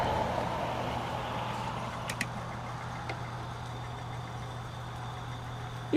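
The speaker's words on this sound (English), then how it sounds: "All you hear is road traffic." A steady, low rumble of engines from passing road traffic, fairly distant, with a couple of brief clicks near the middle.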